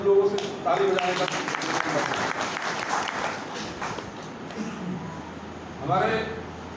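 Audience applause at a farewell ceremony for a retiring police sub-inspector, a burst of clapping that swells and fades while someone speaks over it on a microphone, with a voice returning near the end.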